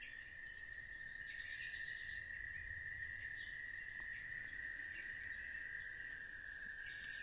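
Insects chirp outdoors in a steady, continuous high drone that holds unbroken from start to end. A few faint bird-like chirps rise above it late on, and no voices are heard.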